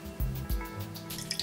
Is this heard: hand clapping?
no